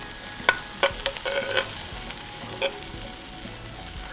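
Food fries in a pan with a soft continuous sizzle, broken by several sharp scraping and stirring clicks from a utensil, fairly quiet and close, with no voices.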